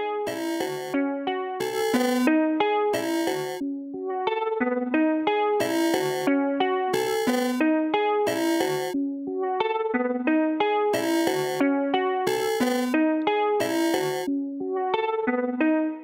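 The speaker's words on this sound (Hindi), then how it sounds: "तो हल्का सा अगर मैं कंप्रेशन लगाना चाह रहा हूँ यहाँ पर," Bass line processed through the Infiltrator VST effects plugin with light compression and distortion, a steady looping synth pattern of punchy notes with bright, buzzy chord stabs, loud and continuous with no talk.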